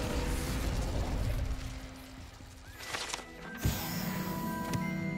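Incendio fire spell cast in Hogwarts Legacy, a bright burst with a sharp pop and whoosh over a noisy background, with a brief crackle of magic trailing after.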